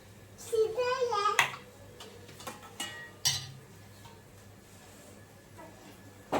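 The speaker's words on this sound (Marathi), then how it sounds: "आता याच्यावर झाकण ठेवते मी." A lid is set down on a cooking pan in a home kitchen during breakfast preparation, with a couple of short metallic clanks standing out over a voice and quiet room sounds.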